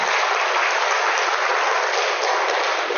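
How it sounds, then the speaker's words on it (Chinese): Sustained audience applause fills a lecture hall at a talk on traditional Chinese teachings, a dense, steady clatter of many hands clapping at once that holds even from start to finish. "掌声鼓励"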